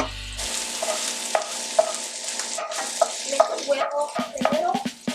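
Ackee and saltfish are stirred in a frying pan over a continuous sizzle, with a utensil scraping and tapping the pan in irregular strokes nearby.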